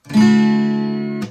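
The second guitar chord of a song, one strummed chord close up, sustains evenly for about a second before being damped with a brief string noise.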